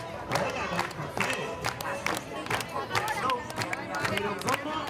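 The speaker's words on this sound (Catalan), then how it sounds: "Aplaudid más bien fuerte." A crowd at a Riba-roja town festival applauds, with dense clapping and chatter running steadily throughout under people talking.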